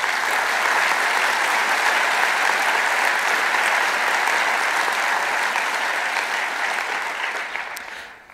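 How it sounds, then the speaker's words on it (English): Sustained, full round of applause from a conference audience for the program committee, dense and even clapping that holds steady before tapering off at the end. "Can everyone please give a round of applause to the program committee?"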